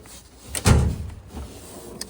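A tool box drawer holding bigger wrenches slides open with a single loud rolling thump, followed by softer rattles and a faint knock near the end.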